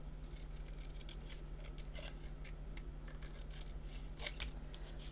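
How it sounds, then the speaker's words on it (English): Small scissors snip around the edges of a paper photo card, a scattered series of soft, crisp cuts close by over a low steady hum, with no talking. "and then I'm just going to snip up, up, and across"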